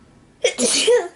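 A single loud, close sneeze with a quick sharp intake and explosive release, short and unaccompanied.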